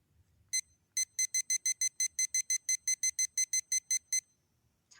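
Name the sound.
cell phone timer alarm going off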